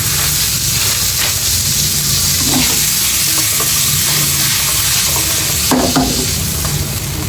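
Frozen mixed vegetables hit a hot frying pan, making a loud, constant sizzle and hiss with a few soft clatters and scrapes as they are stirred, no talking.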